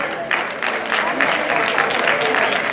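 Audience clapping steadily at an International Women's Day ceremony dedicating a DNA machine at a ministerial complex, a dense continuous patter of many hands held at even loudness.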